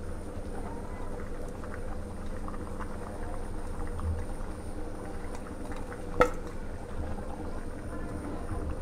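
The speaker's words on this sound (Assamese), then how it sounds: "5 মিনিট হৈ গ'ল, তৰকাৰীটো মোৰ উতল আহিছে" A fish and brinjal curry simmers in a covered pan, giving a faint, steady bubbling hiss with one brief sharp click partway through.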